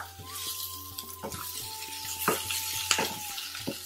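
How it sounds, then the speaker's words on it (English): Boiled diced potatoes tossed into a hot pan with curry leaves and green chili, a steady sizzle with scattered clinks and scrapes of a utensil against the pan, close up, no talking. "now I'm gonna toss in my potatoes"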